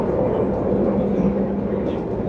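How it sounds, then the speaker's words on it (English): Economy-class train ride in Indonesia, a steady rumbling rolling drone inside the carriage with constant low-frequency noise and faint background murmur throughout. "So I've actually got the economy train this time."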